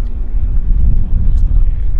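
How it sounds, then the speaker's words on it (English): A small Cessna Caravan cargo plane at Vancouver Airport at sunset gives a loud, steady low rumble with no clear changes, like an engine droning nearby. "A little cargo hauler. Little Cessna caravan,"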